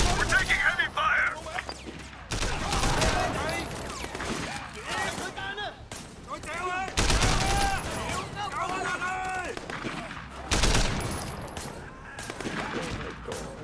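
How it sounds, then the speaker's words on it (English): Heavy gunfire in Sleeping Dogs comes as loud, sustained bursts that sweep in repeatedly, cut with crashes and mechanical clatter, while people talk over the chaos throughout. "We're taking heavy fire!"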